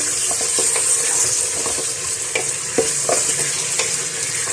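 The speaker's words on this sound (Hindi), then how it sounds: "इसको हम हल्का सा भून लेंगे।" Beef paya curry ingredients sizzle steadily in a hot pan, lightly frying, with occasional scraping and stirring clicks from a utensil; no talking.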